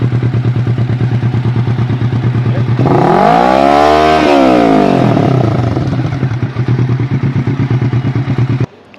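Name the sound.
Kawasaki Ninja 650 motorcycle revving with IXIL full exhaust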